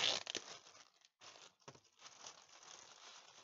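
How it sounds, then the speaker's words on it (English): Plastic packaging crinkles and tears as a packaged cosplay costume item is unwrapped, close-up bursts of crumpling with brief quiet gaps between them. "And try to unwrap this."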